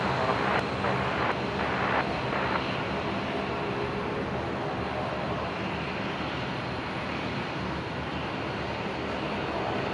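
A Jetstar airliner rolls for takeoff on runway 01 right at Brisbane, a broad, even jet roar that holds steady at a distance, with no speech.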